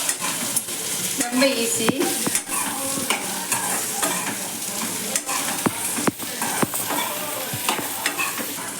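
Boiled, chopped potatoes sizzle loudly as they fry in a pan, with steady crackling broken by scraping stirs of a spoon; someone speaks briefly over the cooking.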